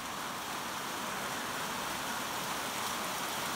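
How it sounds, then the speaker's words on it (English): Rain falls outdoors on a farm after second-cutting hay, a steady, even hiss with no gaps, fairly faint and heard alone. "there comes some more rain"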